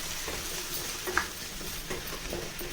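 Brinjal sautéing in oil for a gravy gives a low, steady sizzle with soft stirring scrapes and one small clink.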